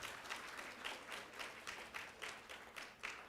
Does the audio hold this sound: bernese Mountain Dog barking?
no